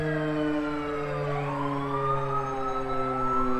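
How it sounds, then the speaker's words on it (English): A fire truck's siren left running at a New York emergency scene, wailing continuously and loudly, with sweeping rising tones layered over steady held horn-like notes, no talk. "I think I left one of the other sirens going up here."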